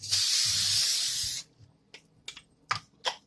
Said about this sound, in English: I put the grilling cooking spray inside of it